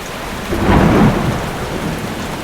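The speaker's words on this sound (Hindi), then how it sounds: "अगले दिन जब लकड़हारा जंगल में लकड़ी काटने जाता है तो तेज वर्षा आने लगी।" Heavy rain pours down in a forest while a rumble of thunder swells and fades, a steady wash of rainfall continuing throughout with no voices.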